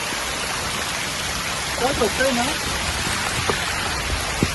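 Steady rain pours down in a dense, even hiss, with a voice briefly speaking partway through and a few faint knocks.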